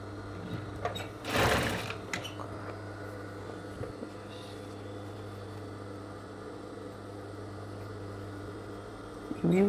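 A sewing machine stitching corset panels together runs in a short whirring burst near the start, then the room settles into a low steady hum with faint handling noises.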